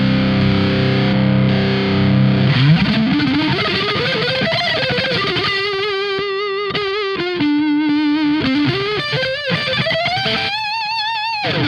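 A 1980s ESP Mirage Deluxe electric guitar roars through a boost pedal with heavy distortion, starting with chugging low chords, then sliding into bending, vibrato-laden lead lines, loud and sustained.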